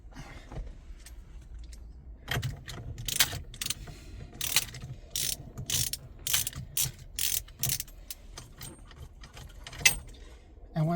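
Ratchet wrench working loose a 24 mm steering wheel bolt on a Ford Mustang during an S197 to S550 wheel swap, giving bursts of quick metallic clicks close by, with faint talk in the background.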